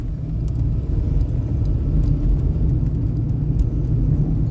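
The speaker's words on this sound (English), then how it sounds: "Wheel bearings are screaming, or the tires are screaming in this Hyundai." A Hyundai car with worn wheel bearings or tires gives a steady, loud low rumble and road roar from inside the cabin, continuous throughout without pauses.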